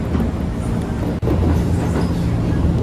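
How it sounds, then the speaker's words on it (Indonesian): A KRL commuter train near Manggarai station passing another train heading from Tanah Abang, a loud, steady roar of wheels and rail rumble with a brief sharp gap as the trains meet. "Ini papasan dengan kereta yang dari arah Tanah Abang."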